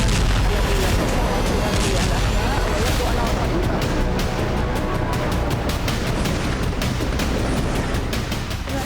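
Heavy Israeli bombardment of Lebanon, with continuous loud booming blasts and rumbling explosions under a dense wall of noise and sharp crackling bursts throughout.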